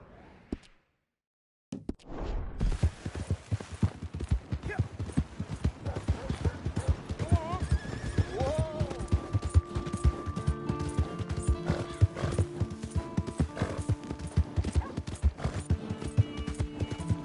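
A horse in Red Dead Redemption 2 clip-clops along with rhythmic hoofbeats, close and loud, joined by a whinnying neigh and a door-like slam amid game ambience and music.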